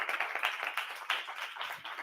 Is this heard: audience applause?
yes